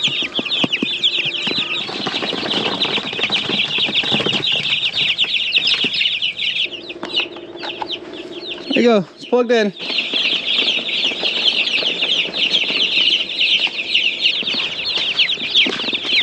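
Many young chicks peep continuously in high, shrill chirps, a dense chorus close by, with a brief spoken remark and some handling noise partway through.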